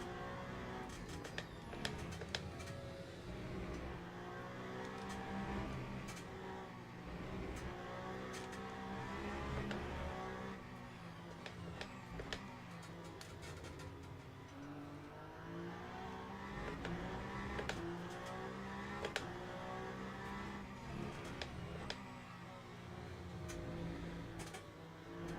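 A Peugeot race car engine in a racing video game, endlessly droning and rising and falling through gear changes and revs, steady and loud with constant layered engine tone over the whole stretch.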